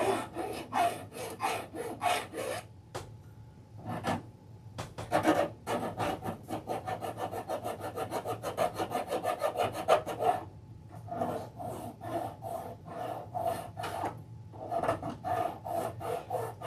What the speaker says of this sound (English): sorry about the filing.